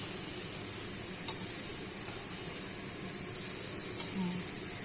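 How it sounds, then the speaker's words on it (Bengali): Potatoes stir-fried with spices in a pan for an egg and potato curry, giving a soft, steady sizzle with occasional scraping stirs of a spoon, close and fairly quiet with no talking. "আলুটা মশলার সাথে ভালো করে কষিয়ে নিই"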